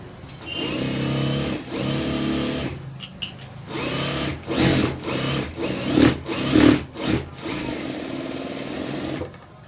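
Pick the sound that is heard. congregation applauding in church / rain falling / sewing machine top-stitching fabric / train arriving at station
sewing machine top-stitching fabric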